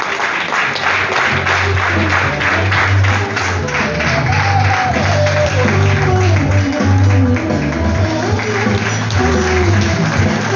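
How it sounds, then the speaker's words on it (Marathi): Audience applause fills a literary award ceremony hall, steady dense clapping continuing loudly for about ten seconds with no speech over it. "जोरात टाळ्या झाल्या पाहिजे"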